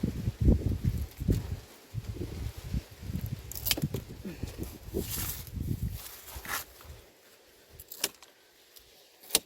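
A breeze stirs the leaves of a Campbell grapevine at harvest time, giving close, irregular rustling with crisp bursts and brief clatters that fade toward quieter moments.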